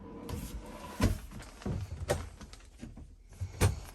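A few wooden knocks and sliding thumps from a pull-out drawer in a Class-C RV being pulled open and pushed, spaced irregularly across a quiet room.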